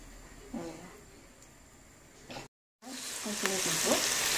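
Food frying in a pan of oil with salt and a little soy sauce, a soft crackling sizzle that cuts out briefly, then returns louder and brighter with stirring clinks.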